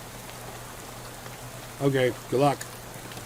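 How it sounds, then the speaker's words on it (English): Steady rain falls in the Shadows Over Loathing video game, a soft continuous hiss throughout, with a short spoken exchange over it. "How about this rain, huh?"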